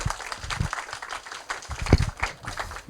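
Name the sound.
audience applause welcoming teacher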